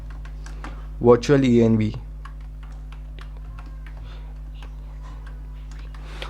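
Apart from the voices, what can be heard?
typing a pip install command on a computer keyboard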